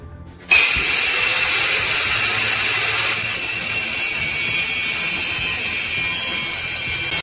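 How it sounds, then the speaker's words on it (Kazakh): A power tool grinds the edge of plasma-cut metal to clean and thin it, a loud, steady high-pitched whine that starts abruptly and runs continuously without letup. "Металдың жиегін тазалап, жұқалап,"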